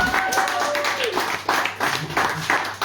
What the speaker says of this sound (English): I get a round of applause, please?